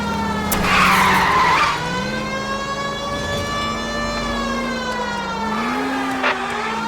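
Tyres squeal in a long, loud skid during a car chase in the video game L.A. Noire, with a wailing siren-like tone running through it and no talk.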